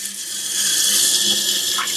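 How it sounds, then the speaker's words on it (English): Water runs steadily from a tap to wet a compressed face towel, making a continuous close hiss at moderate level with no talking. "let me start the water"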